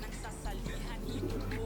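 White pigeons in a loft give soft low cooing under steady background noise, while someone talks over them.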